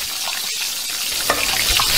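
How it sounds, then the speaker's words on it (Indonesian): Fish roe frying in a pan in an animated kitchen scene, a continuous bright hiss and crackle with small pops, close and fairly loud, no speech. "Apa yang kau goreng tu? Telur ikan."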